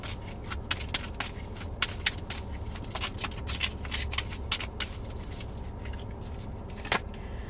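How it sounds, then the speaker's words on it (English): Tarot cards being shuffled and drawn, a steady papery riffle with irregular soft slaps and flicks that runs for several seconds, close and fairly quiet over a constant low background hum. "Let's pull out cards for you."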